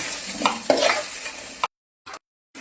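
A salted, beaten mixture hits hot oil in a pan and fries with a crackling sizzle and stirring scrapes, then it cuts to silence broken by two short bursts of frying.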